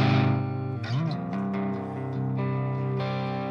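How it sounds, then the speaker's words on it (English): Heavily distorted electric guitar on an amp's distortion channel rings out in sustained, gritty chords, loud and saturated with a brief bend in the middle. "I always use one channel, the distortion channel"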